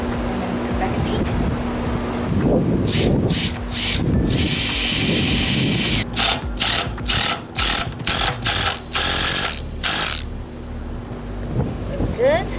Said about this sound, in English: I'm gonna drill it here and then make sure it's secured.